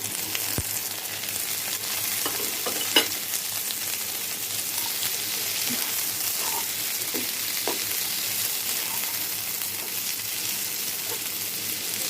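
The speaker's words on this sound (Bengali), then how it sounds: "এই অবস্থাতে আলুগুলো ভাজার জন্য দিয়ে দিব।" Small red potatoes frying in oil with onion and cumin, a steady close sizzle with occasional pops and light stirring clinks throughout.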